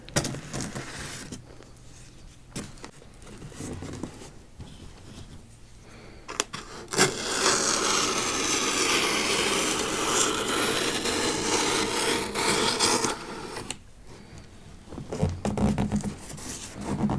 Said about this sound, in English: Let's get out our trusty pocket knife to move some of the stuff back on the edges.